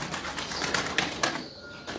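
Pigeons in a Turkish pigeon loft, recovering from illness, coo softly in a few low repeated calls against quiet background noise, close by and faint.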